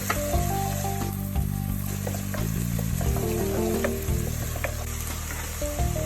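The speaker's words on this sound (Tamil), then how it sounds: "அடுத்ததான் நறுக்கி வச்ச வெங்காயத்தை போட்டு ஃப்ரை பண்ணிடலாம்." Chopped onions frying in a pan with ginger garlic paste, a continuous close sizzle with occasional stirring clinks and scrapes throughout, no talking.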